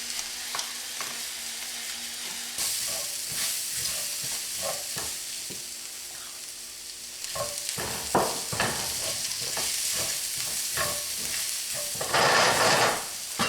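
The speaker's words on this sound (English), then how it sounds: "when the onions start to brown, then we add the mushrooms. Add the mushrooms." Mushrooms and onions fry steadily in a pan with a close, continuous sizzle. Repeated stirring scrapes run throughout, and the sizzle swells louder near the end, with no one speaking.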